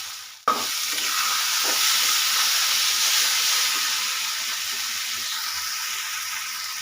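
Water spinach hits a pan of hot oil with onion, garlic and chili, bursting into a sudden loud sizzle that then holds as a steady hiss and slowly eases.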